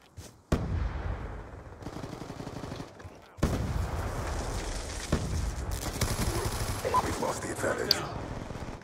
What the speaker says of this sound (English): I shot him with some heavy machine gun bullets in his fucking chest